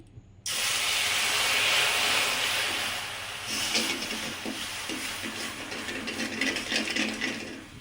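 Water poured into hot caramel in a pan, erupting into a sudden loud hiss of steam that fades gradually into softer sizzling and bubbling.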